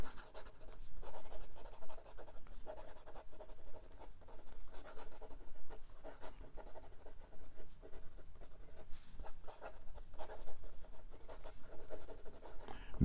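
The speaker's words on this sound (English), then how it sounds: "And some quick writing." A 1950 Waterman Taperite Lady Crusader fountain pen writing quickly on paper, a close, quiet, continuous scratchy rustle of nib strokes with small pauses and no talk.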